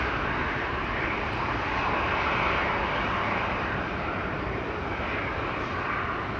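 At Amsterdam Schiphol Airport, a jet airplane on the runway produces a loud, continuous engine roar that stays broad and steady throughout, with no voices.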